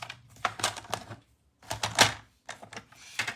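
Paper is cut for an ink-blended layered card with a lattice design, heard as close, crisp bursts of rapid snipping clicks in three groups separated by short pauses.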